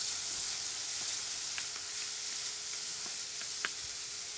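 Onion sautés in hot garlic oil with a constant dense sizzle and a few light utensil clicks, and no voices over it.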